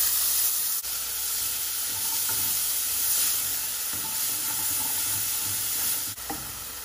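Calabresa sausage fries with onion and garlic in a hot pan, giving a loud, dense, continuous sizzle with occasional stirring clatter, close up and without talk.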